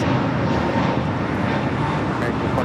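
A Boeing 777 jet at Los Angeles International Airport gives a loud, steady, broadband roar that holds constant and close throughout.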